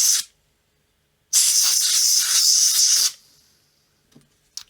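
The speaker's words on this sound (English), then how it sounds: "So I'm just going to put some canned air into here." Canned air sprays in one steady hissing burst of about two seconds into the cartridge slot of an Atari 2600 Jr. console, close and loud, followed by a fading tail and a couple of faint clicks.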